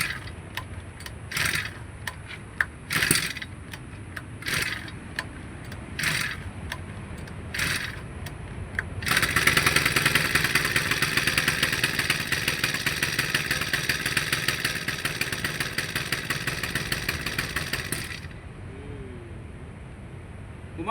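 A Honda GX35 small four-stroke engine, unused for three months, is pulled over with several short bursts, then catches and runs with a buzzing, uneven idle for about nine seconds before dying out.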